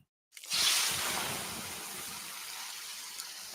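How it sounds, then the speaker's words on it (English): Water poured onto hot sauna rocks at about 800 degrees bursts into a sudden loud hiss, then settles into a long, fading sizzle heard alone. "The sound of water being poured on 800-degree rocks."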